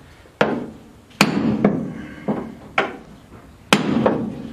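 Hammer striking a spot weld on a 1975 Daihatsu F10 during a rebuild, five or six sharp metallic whacks at uneven intervals, close and loud, each ringing briefly before fading.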